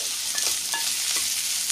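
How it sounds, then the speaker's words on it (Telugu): Bitter gourd pieces fry in a pan with a dense, steady sizzle, joined by a few soft scraping strokes of stirring, close and continuous with no talking. "కాకరకాయలు బాగా వేగిపోయినాయి"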